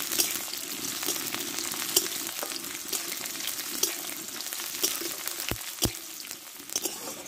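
Chopped onion frying in a pan for a potato and water spinach dish, a continuous close sizzle with occasional clinks and scrapes of a spatula stirring.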